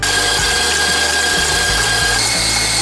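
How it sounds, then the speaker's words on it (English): An electric hand mixer beating separated egg whites for a strawberry cake, a steady loud motor whir with rhythmic bumps from the beaters knocking through the bowl, heard alone without talk. "Now I'll beat white."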